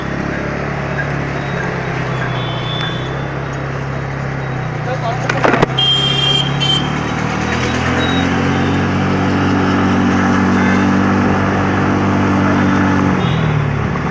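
A TVS Ntorq 125 XT scooter is ridden with a low, steady engine hum that rises in pitch as it accelerates, with a brief clatter midway and a person talking over it.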